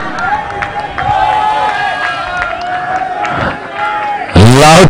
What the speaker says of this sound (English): Loud cheer there for the fielding effort.